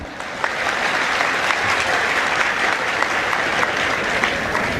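An audience at a comedy show claps loudly and continuously, a thick, sustained roar of many hands with a few sharper individual claps standing out.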